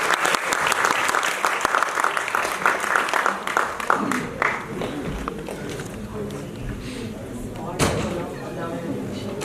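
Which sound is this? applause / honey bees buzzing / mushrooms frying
applause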